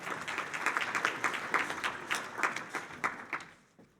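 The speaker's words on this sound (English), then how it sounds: "And applaud for him too." A workshop audience claps for a speaker at a science plenary session, a dense burst of many hands at moderate volume that thins out and fades to quiet within a few seconds.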